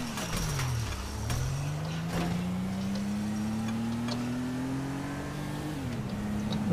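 A worn-out car in a video game revs its engine, the pitch dipping, climbing steadily, then dropping again, loud and close with faint ticking, no voices.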